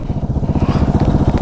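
Motorcycle engine held at a steady throttle during riding practice, its close, loud, pulsing exhaust putter chugging evenly throughout with no voices.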